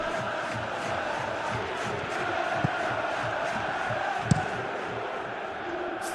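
Stadium crowd in the eFootball PES 2021 football game, AC Milan vs Venezia, roars steadily and appreciatively throughout, a dense, even wash of cheering with a couple of brief sharp accents.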